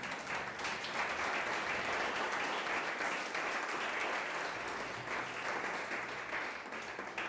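A church congregation applauds throughout a Spanish-language service on Christian baptism, a dense, steady clapping that fills the whole stretch at strong, even loudness, with no voices rising above it.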